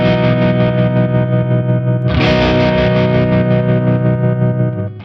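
Held electric guitar chords run through a JHS Kodiak tremolo pedal set to a square wave with the blend backed off, giving a sustained, effected tone that swells louder and brighter midway before trailing off.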